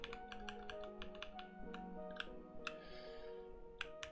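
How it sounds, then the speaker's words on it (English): Rapid, loud clicky keystrokes from a computer keyboard rattle along in an uneven rhythm, close up, with a steady tonal hum behind them and no talking. "irritating my girlfriend with my loud keyboard"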